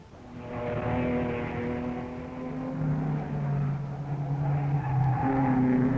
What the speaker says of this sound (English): Peter Proctor certainly isn't hanging about at the wheel of Rapier number 75.